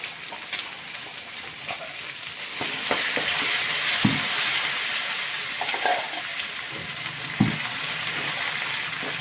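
Ground drumstick leaf chutney is mixed into a tempering of curry leaves and a pinch of asafoetida after the stove is switched off, giving a steady soft sizzle with occasional scrapes and knocks.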